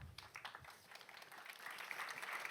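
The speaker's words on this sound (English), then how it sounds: "thank you so much for giving them a well-deserved applause" An audience at a software conference talk applauds steadily, the clapping swelling slightly toward the end, heard at a modest distance.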